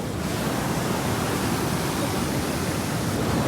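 Kundmala waterfall overflowing in the monsoon rains, a loud, steady, dense roar of rushing water close by with no pauses.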